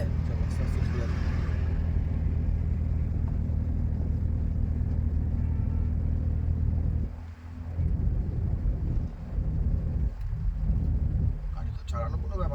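A manual car drives steadily during a driving lesson, its engine and road noise forming a loud continuous rumble with wind buffeting, easing off after seven seconds as a person speaks over it.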